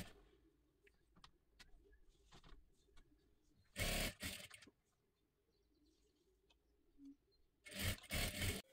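Sewing machine stitching the collar of a princess blouse: two loud, fast mechanical bursts about a second long, separated by quiet handling noises and light rustling.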